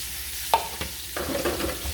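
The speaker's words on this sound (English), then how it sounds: "we're going to saute these down here a little bit" Onions and peppers sautéing in a pan in grease, with a constant close sizzle broken by a few spatula knocks and stirring scrapes, and no voices.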